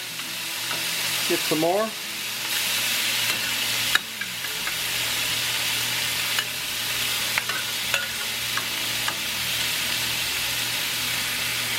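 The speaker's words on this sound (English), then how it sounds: "Stir fry that around a bit." Cantonese pork belly stir-fried in a wok: loud, continuous sizzling and crackling with intermittent spatula scrapes and taps throughout, and a brief spoken remark near the start.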